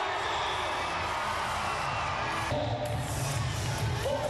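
A loud, steady crowd cheers and shouts outdoors as an international youth parade of student teams passes at a world DI creativity competition, the roar swelling slightly partway through.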